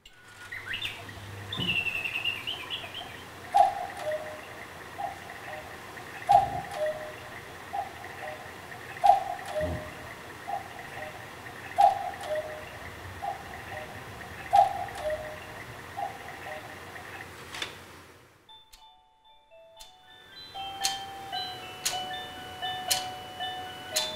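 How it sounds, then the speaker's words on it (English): A battery-operated cuckoo clock ticks steadily at an even, quiet pace over a low background hum, then falls briefly silent before a short run of clear chiming melody notes begins. "This is a battery-operated cuckoo clock."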